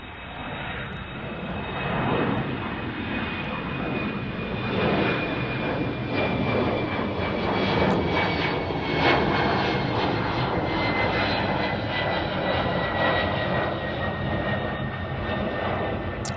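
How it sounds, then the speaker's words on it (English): An Embraer E175 jet airliner departs from Chicago O'Hare with a loud, sustained engine roar that swells and holds, under a high whine that slowly drifts downward as the plane climbs away. "E175 departing here"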